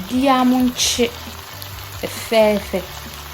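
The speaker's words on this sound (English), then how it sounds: "I'll stir everything up and let the gizzard fry in the oil for about 5 minutes before adding the mixed vegetables" Chicken gizzard fries in oil for fried rice, a steady hiss of sizzling beneath loud tonal sounds that come and go throughout.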